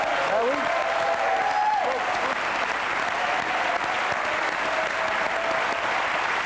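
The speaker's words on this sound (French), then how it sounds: "Merci de lui réserver une petite salve d'applaudissements" A French television studio audience bursts into warm, sustained applause, the clapping loud and even throughout, with a brief tonal sound and voices faintly beneath it at the start.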